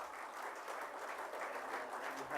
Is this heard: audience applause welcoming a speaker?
yes